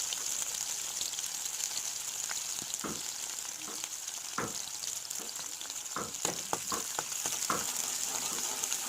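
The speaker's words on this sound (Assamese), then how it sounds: "তেলত পিঁয়াজ দি লৈছোঁ।" Onions sizzle steadily in hot oil in a pan that had just fried fish and potatoes, a dense continuous crackle broken by sharper pops and a few stirring clicks, close and alone without any talk.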